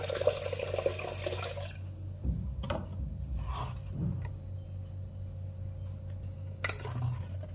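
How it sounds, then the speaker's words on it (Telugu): Water poured into a pot of washed toor dal splashes briefly at the start, followed by a few soft sloshes and drips over a quiet background hum. "కందిపప్పు కడుక్కొచ్చాను ఫ్రెండ్స్. ఇప్పుడు ఇందులో వాటర్ యాడ్ చేస్తాను."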